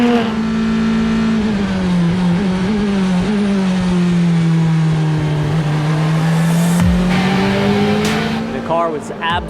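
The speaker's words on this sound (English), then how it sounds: "The combined field of LMP3 and LMP2 cars out for 15 minutes of" LMP2 and LMP3 prototype race cars circulate on the Buriram circuit, one engine droning loud and close with a steady high pitch that dips and rises, other cars revving near the end while a commentator talks over them.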